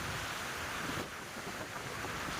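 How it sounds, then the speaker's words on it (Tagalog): Ocean waves roll against a rocky shore at Bolinao, a continuous broad surf wash mixed with wind buffeting the microphone, steady and moderately faint throughout with no speech. "grabe yung alon dito"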